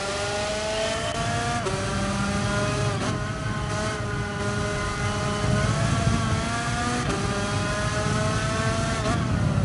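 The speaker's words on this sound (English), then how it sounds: "Can we run a go-kart in this weather?" A go-kart engine whines and revs in wet weather in Gran Turismo Sport, its pitch climbing and dropping repeatedly through gear-like shifts, loud and close throughout with no talking.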